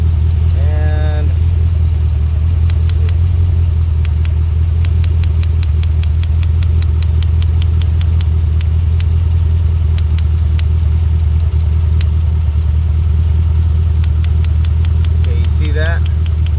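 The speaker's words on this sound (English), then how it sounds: "the engine sounds exactly the same" A Chevy Camaro engine with a misfire idles in a steady low rumble throughout, with faint clicks and ticking layered over it and no clear change in pitch.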